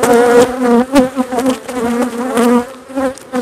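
Honey bees buzz steadily around hive frames as they are brushed off a honey super during harvest, a dense, close droning hum with slight swells and no voices.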